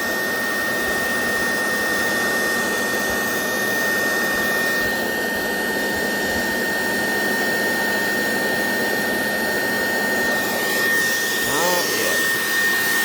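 Waste oil burner roaring as it heats up, a loud steady flame rumble and rush with a constant tonal hum, close and unbroken, with a brief shift near the end.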